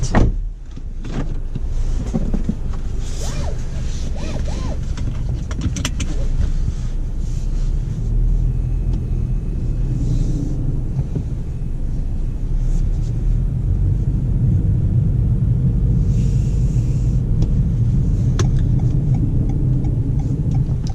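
A 2019 Toyota Corolla Hatchback out on a drive fills the cabin with a steady low road and engine rumble, plus a few faint clicks and thumps inside the car.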